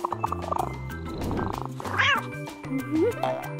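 A cartoon cat gives a couple of rising, drawn-out meows over bouncy background music, with no talking.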